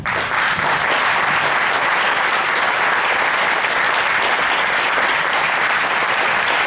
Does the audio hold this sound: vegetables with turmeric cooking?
no